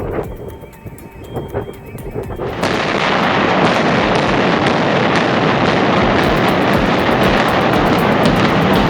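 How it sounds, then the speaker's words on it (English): Cornwall Tower comes down in a controlled demolition explosion: a series of sharp cracks gives way to a sudden, sustained roar of collapse that stays loud to the end. "DSM Demolition orchestrated the graceful fall of Cornwall Tower through a masterfully controlled explosion"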